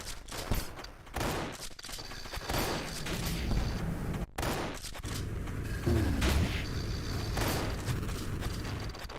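Enemies exploding in a chain during video game play, a rapid fusillade of sharp bursts and booms in dense, loud succession with mechanical clatter between them.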